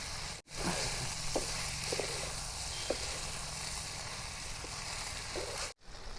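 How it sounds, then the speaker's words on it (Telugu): Mushrooms sizzle in a hot pan for a village-style curry, a steady frying hiss broken by a few soft scraping stirs of a spoon, with two brief cut-outs in the sound. "ఇది వేసుకొని ఒకసారి బాగా కలుపుకుందాం"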